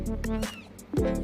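A baby kitten, one of a young litter with its mother, gives two or three short, high meows close to the microphone in quick succession.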